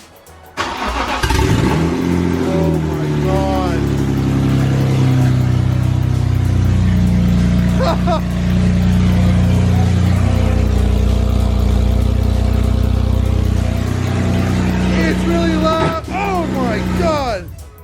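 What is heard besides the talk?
car engine starting and revving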